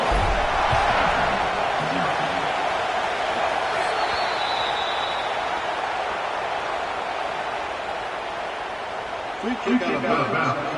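A home crowd roars steadily at a Florida football game, a broad, continuous cheer filling the whole stretch, with a few louder bursts and voices rising near the end.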